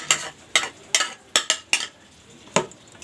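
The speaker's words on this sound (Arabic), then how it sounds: "نقعد بنقلب كل ده كده اهو" Homemade country-style pickle ingredients get stirred in a container, giving about seven sharp, close scraping clinks at an uneven pace, with no talking.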